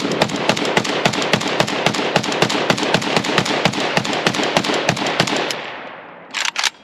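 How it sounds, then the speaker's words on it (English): A converted SA-85M AKM-63 AK rifle fires a long burst of evenly spaced, loud, close shots lasting about five seconds, followed by a short gap and a couple of final shots. "Test firing of the SA-85M AKM-63 conversion."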